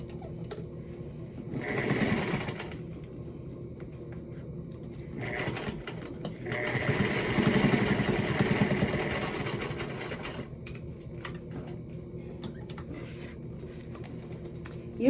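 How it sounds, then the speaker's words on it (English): Sewing machine stitching down the sides of a surgical mask in bursts of rapid mechanical whirring, separated by quiet pauses with faint handling clicks. "then you'll want to sew down the sides."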